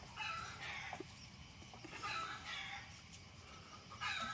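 Chickens cluck and cackle intermittently at a distance on a farm, faint and scattered over a steady outdoor background.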